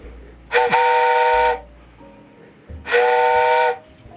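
Two loud, sustained whistle blasts, each about a second long with a short gap, sounding like a steam or train whistle effect, used on a game Q&A show.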